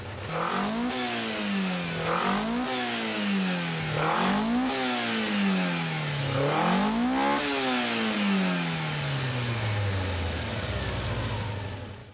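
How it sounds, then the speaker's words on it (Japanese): Carbureted Toyota AE86 engine revving repeatedly, each rise and fall in pitch loud and close, about five blips in a row before settling back toward idle, with no voices. "まずはキャブレターの音を聞いてみてください。"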